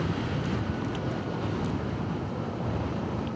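Wind roars steadily past a moving vehicle, buffeting the microphone with a continuous low rumble and broad rushing noise at close range, with no talk.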